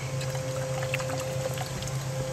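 Coolant being poured into a car's cooling system, with a steady gurgling liquid pour and a constant low hum behind it, close and fairly quiet, no talking.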